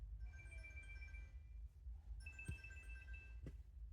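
A telephone rings in a workshop during wiring work on a Terex TA1EH dumper, giving two repeated electronic ring bursts, fairly faint over a low background rumble, with sharp clicks or knocks between them.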